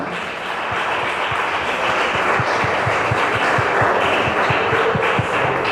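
Steady applause from a large church congregation fills the space, continuous and fairly loud, with a low rhythmic thumping running underneath.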